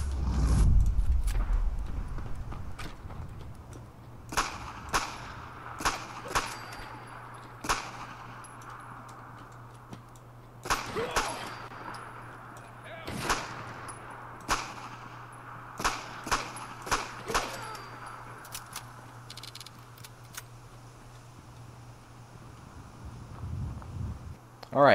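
Dardick Tround weapon firing in Fallout 4: sharp single shots at irregular intervals, some close together, each cracking out over a low steady hum, fairly near and moderately loud.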